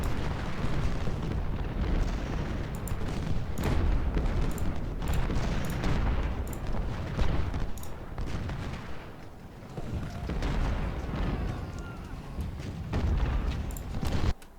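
Cannon fire in the Civil War strategy game Ultimate General: Civil War, a dense run of booming artillery shots and bursts rolling almost continuously at close, loud level with no talking.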